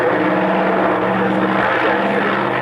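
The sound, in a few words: propeller aircraft with R2800 engine flying at airshow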